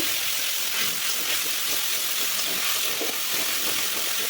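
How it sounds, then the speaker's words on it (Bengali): A ground paste of ginger, cumin and green chilli sautés in a pan, giving a continuous dense hiss of frying with faint scraping stirs throughout, close and even in loudness. "বেটে রাখা মশলাটা দিয়ে দেব, আদা, জিরে, কাঁচা লঙ্কা, ভালো করে কষিয়ে নেব"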